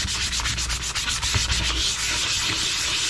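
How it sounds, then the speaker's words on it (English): 220 grit sandpaper rubs back and forth over a surface being prepped for a scorch marker, fast rhythmic close scratching strokes throughout with no voices. "Kind of sand around."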